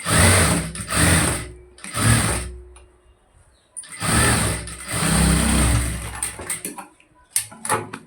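A sewing machine stitches a shape belt onto a blouse along a folded edge. It runs in several loud, close bursts with short pauses between runs.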